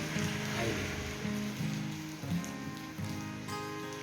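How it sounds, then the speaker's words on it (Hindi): Steady rain falling in the mountains, a soft continuous patter on surfaces with a faint tonal hum running underneath throughout. "तो यहाँ पे बारिश हो रही है"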